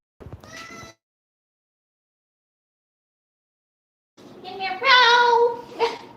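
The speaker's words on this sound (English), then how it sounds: "There's 3 cats in here." Indoor cats meow twice: a short meow at the start, then a longer, louder complaining meow after a few seconds of silence.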